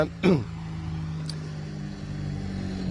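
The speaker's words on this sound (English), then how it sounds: "First car's here." A rally car arrives on a stage of the Barum Czech Rally Zlin, a car prepared by the Eurosol racing team, its engine a steady low drone with a brief louder burst near the start, heard at a distance.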